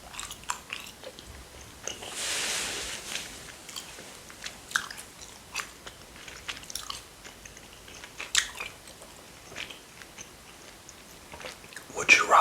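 Chewing gum up close, soft wet smacks and squishy bites repeating irregularly, with a brief crinkle early on and whispered talk throughout.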